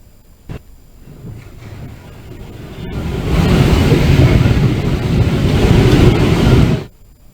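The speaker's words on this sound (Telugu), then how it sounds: "అబ్దుల్లాపూర్లో ఈదురుగాలులతో కూడిన వర్షం పడింది." Gusty wind and heavy rain during a monsoon storm in Abdullahpur near Hyderabad, a steady broadband roar that builds and stays loud for several seconds, then cuts off abruptly.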